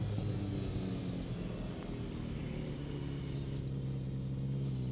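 Ferrari 308 engine and gearbox from inside the cabin, a low steady droning rumble with faint mechanical whine, fairly quiet and continuous.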